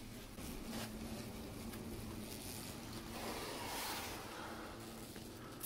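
European hornets in a massive nest that ate through a bedroom wall, buzzing in distress after being dusted: a dense, steady droning hum with a faint low tone, close and continuous with no talk.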